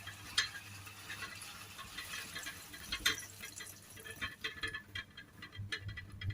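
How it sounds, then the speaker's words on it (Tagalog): Half a glass of water is poured into a pot of chicken adobo during home cooking, a faint, soft trickle and splash with small clinks and drips, no talking. "lagyan natin ng kalahating baso ng tubig"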